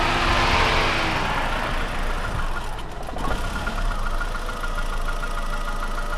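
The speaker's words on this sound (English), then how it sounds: "Alright, so the fans just kicked on." Radiator cooling fans on an overheating $50 used car whir steadily alongside the idling engine, a constant close broadband rush that holds throughout with no speech.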